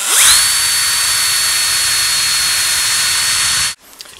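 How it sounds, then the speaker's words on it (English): A power drill bores into wood for the poppet of a timber-frame spring pole lathe, giving a loud, steady whirring grind that runs for several seconds before cutting off abruptly. "So I'm gonna have to just be careful with my drilling"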